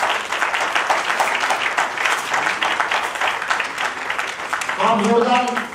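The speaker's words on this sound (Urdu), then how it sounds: "آپ زوردار تالیوں سے اس کتاب کا استقبال کیجیے" Audience applause welcoming a new poetry collection, the second book by a well-known poet from Sholapur, presented at a literary gathering; dense, steady clapping fills the room, with a voice speaking over it near the end.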